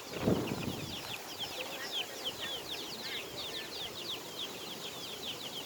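Chickens call in a busy, overlapping stream of short high chirps and clucks, with a brief louder thump near the start and a steady outdoor background.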